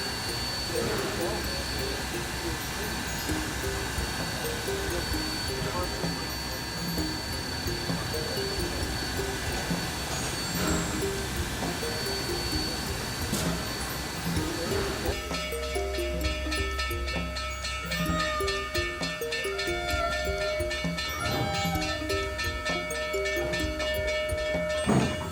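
Durango and Silverton narrow-gauge steam locomotive No. 482 climbs a mountain grade with steady rhythmic chuffing and clanking rail noise. The sound character shifts partway through, and a whistle-like tone follows. A voice may be talking faintly in the background.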